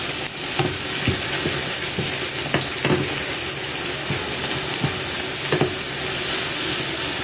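Bitter gourd and egg being stirred in a pan, a steady frying sizzle and steam hiss running throughout with occasional utensil scrapes and taps against the pan.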